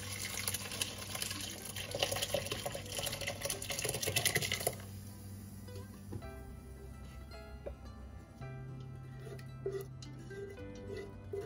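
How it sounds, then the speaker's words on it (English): Thick buttermilk curds and whey poured through a strainer lined with cheesecloth, a splashing, liquid pour loudest in the first few seconds, then settling into softer trickling and dripping with faint background noises. "So now I'm going to put it through a strainer and a cheesecloth."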